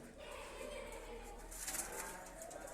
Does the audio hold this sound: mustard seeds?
no